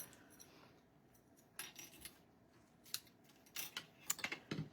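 Scissors snip crisp cantaloupe ribbon for card making, quiet close-up clicks and crisp cuts coming in a few separate bursts, closer together toward the end, in a silent room.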